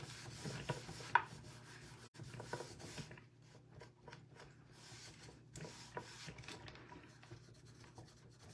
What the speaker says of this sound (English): We're just gonna keep rubbing that out.